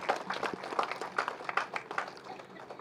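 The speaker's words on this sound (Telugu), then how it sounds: "వారికి గట్టిగా క్లాప్స్ కొట్టుకుందాం ప్రసన్న గారికి" An audience claps for Prasanna garu at a meditation gathering celebrating her milestone birthday, a brief burst of rhythmic, evenly spaced handclaps that rise and fall in a steady beat.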